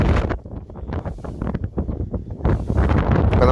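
Strong winter wind with snow in Saskatchewan roars and buffets the microphone in loud, continuous gusts, rumbling low, dipping briefly, then surging back.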